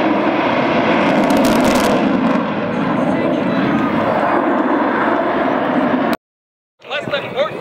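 A jet aircraft at an air show roars overhead with a loud, sustained engine rush that swells and fades slightly, while a commentator's voice over loudspeakers runs underneath; the sound cuts off abruptly near the end before crowd noise returns.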